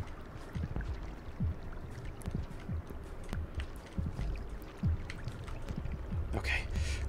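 Water in the video game Rain World sloshes and splashes in irregular bursts, with gurgling, pouring movement and a faint hiss near the end, fairly close and continuous.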